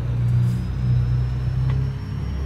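A Mercedes truck engine in Euro Truck Simulator 2 rumbles with a steady, loud low drone and slight rises in revs, close and continuous with no talk.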